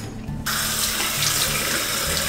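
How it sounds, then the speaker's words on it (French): A bathroom tap runs steadily into the sink while someone rinses their face during an evening skincare routine, a close, continuous splash that starts abruptly and keeps going with no talking. "On se rince."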